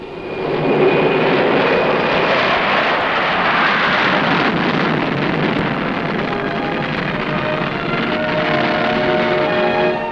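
A British Aircraft Corporation VC10 jetliner roars loudly through its takeoff run, a sustained, broad jet-engine rumble and whine that holds steady and close for the whole stretch with no voices.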